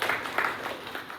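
A crowd at a motivational session before an entry mock test claps for about a second, a dense, steady wash of hands with a few slightly louder bursts and no voices over it.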